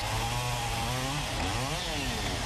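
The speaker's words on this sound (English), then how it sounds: "On a day fit for chainsaws." A chainsaw runs loud and steady while cutting wood during storm cleanup along a marina shoreline road. The engine pitch dips and rises as the blade bites into the wood.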